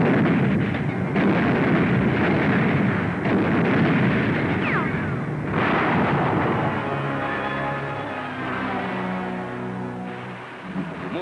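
Heavy naval and artillery guns firing during a Pacific war invasion, with loud booming blasts and a sustained rumbling roar that eases toward the end.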